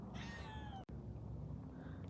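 Kittens give a single drawn-out meow followed by fainter mewing, quiet and close against low background noise.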